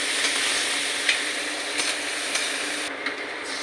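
Chopped onion frying in mustard oil with cumin and bay leaf, a continuous close hiss and crackle with a few spatula knocks, no voices.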